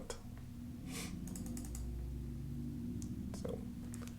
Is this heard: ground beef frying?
no